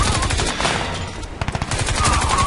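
Rapid gunfire in the video game Crysis 2: loud, dense bursts of automatic shots crackle and overlap, with a short lull before another cluster of sharp reports.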